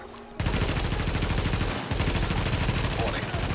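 An automated turret in The Division opening fire on enemies, a loud rapid machine-gun-like stream of shots that starts abruptly and keeps going with brief breaks.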